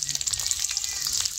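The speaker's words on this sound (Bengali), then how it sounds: "এইবারে দিয়ে দেবো ভেজে রাখা মাছ।" Previously fried fish (mourola) slides into a hot pan, setting off a steady, close hiss of oil sizzling for a short moment.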